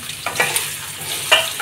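Chopped potatoes fry with curry leaves and chillies for sabudana khichdi over a medium flame, a short crisp sizzle broken by a few clinking stirs.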